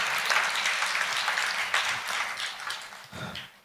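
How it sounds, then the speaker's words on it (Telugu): A church congregation applauding, a dense wash of many hands clapping at moderate distance, steady and then tapering slightly near the end. "చప్పట్లు కూడా దేవుని మహిమపరుస్తారా?"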